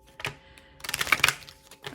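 Tarot cards being shuffled by hand, a few quick crisp riffling bursts and flicks close by, separated by short pauses.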